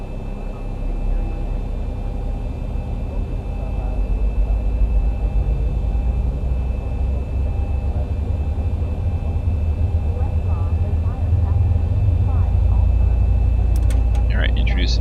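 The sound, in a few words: Boeing 737 engine number 1 starting up in X-Plane 11 video game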